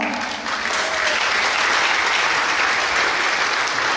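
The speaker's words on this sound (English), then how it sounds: "Please let's give them a well-round of applause." Audience applause at a community clean-up day event in Micronesia, a loud, dense, sustained burst of clapping that swells after the first half second and holds steady.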